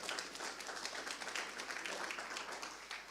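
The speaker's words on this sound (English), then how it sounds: "you can give yourselves a round of applause for making it here this morning" A morning audience at a political candidates' panel discussion claps in a sustained, dense round of applause that holds steady for a few seconds, without voices.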